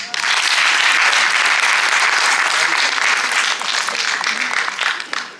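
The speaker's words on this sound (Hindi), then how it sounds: "एक बार तालियां बजाएं" Loud, dense audience applause at a Hindi drama performance, a sustained wash of many hands clapping that holds steady and then tapers off at the very end.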